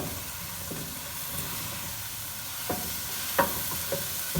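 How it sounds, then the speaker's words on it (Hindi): Chicken spring roll filling with soy sauce and chili sauce is stirred and mixed close by. Soft, steady scraping carries under a faint sizzling hiss, with a few sharper clicks of the utensil against the pan. "सब चीज़ों को इसी तरह से हम अच्छी तरह से मिक्स करेंगे"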